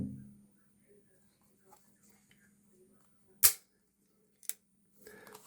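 Big-bore revolver fired outdoors, a gun able to handle .454 Casull-class loads and fitted with a muzzle brake: one sharp, loud crack, then a second shot about a second later, between quiet stretches.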